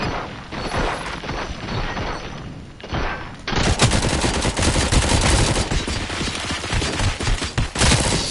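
Gunfire in the video game Robocop Rogue City: sustained, dense bursts of rapid shots, moderate at first, then a brief lull before an even louder, continuous barrage takes over.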